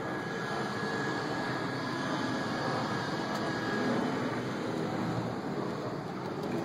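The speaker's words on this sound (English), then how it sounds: "There's helicopters flying over." Helicopters flying over a tornado-damaged subdivision, a steady broad engine and rotor roar that stays constant throughout with no talk.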